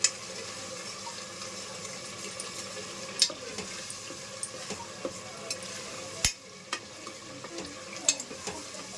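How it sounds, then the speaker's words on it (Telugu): Spice masala for mutton paya is stirred and fried in a pan, making a low continuous sizzle with sharp scraping clicks from a spoon at irregular moments, quiet and close. "దీన్ని మొత్తం కలిపేసుకుందాం. దీంతో పాటే వేగుతూ ఉంటుంది."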